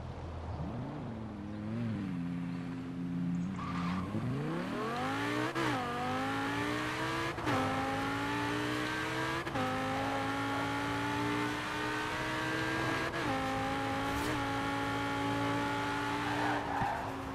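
A modified Audi RS6 in the racing video game Forza Horizon 4 accelerates down a straight, its engine rising in pitch through several gear changes, each shift briefly dropping the tone before climbing again, steady and alone without talk.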